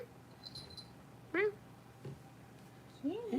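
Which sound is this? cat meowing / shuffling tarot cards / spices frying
cat meowing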